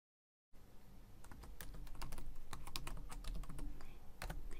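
Quick keystrokes on a computer keyboard enter a username, a fast irregular run of close, crisp clicks starting after a brief silence and continuing to the end.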